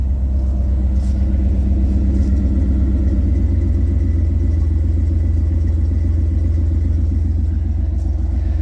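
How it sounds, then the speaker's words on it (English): A loud, continuous low exhaust rumble from an idling 1996 Ford F-Super Duty pickup truck with a louder exhaust, steady throughout with a throbbing texture. "And here is our exhaust."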